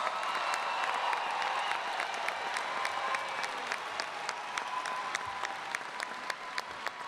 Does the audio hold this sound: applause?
yes